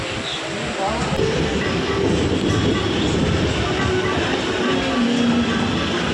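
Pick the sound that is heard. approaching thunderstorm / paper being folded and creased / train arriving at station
train arriving at station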